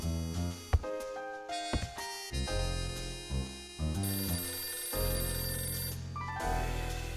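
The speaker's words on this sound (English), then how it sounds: "It's the phone again." A telephone ringing in the video game Last Window, with repeated tonal ring bursts over background game music, fairly loud and steady.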